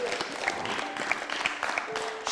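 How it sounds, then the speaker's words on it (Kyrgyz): An audience at a televised matchmaking show claps in a steady, dense round of applause, moderately loud and continuous throughout. "Кол чаап коелу анда."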